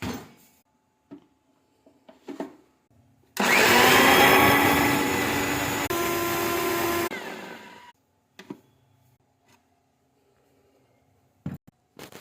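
A mixer grinder jar blends a pomegranate milkshake made without milk: one loud, steady whirring burst of about four seconds, with light clinks and handling knocks before and after.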